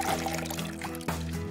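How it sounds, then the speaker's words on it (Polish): Water is poured over stale bread rolls, making a continuous close splashing trickle that briefly shifts partway through. "wystarczy trochę polać je wodą."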